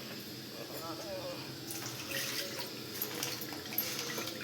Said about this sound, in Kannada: ಇನ್ನು ಸ್ವಲ್ಪ ನೀರು ಹಾಕಬೇಕು ಇದಕ್ಕೆ